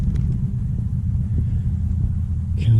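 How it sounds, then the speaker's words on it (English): A car passing outdoors, a low steady engine rumble close by throughout with no talk. "Car's putting me off."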